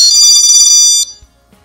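A GE door sensor buzzer alarm in a flat sounds when the door is opened: a loud, high electronic beep lasting about a second, then quickly cut off, heard alone.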